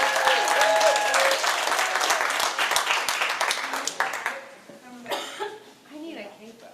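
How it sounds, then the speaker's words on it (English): Audience at a seminary talent show claps in a dense burst of applause that fades over several seconds, leaving scattered claps, a cough and throat clearing near the end. "Round of applause for Michael."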